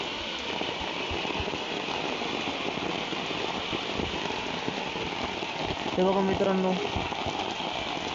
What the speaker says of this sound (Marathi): हे बघा फुल पाऊस चालू आहे, बघू शकता तुम्ही मित्रांनो.